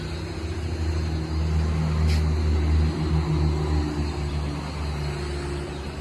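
A large airplane gives off a broad, steady engine roar with a low hum underneath, loud and continuous with no talk.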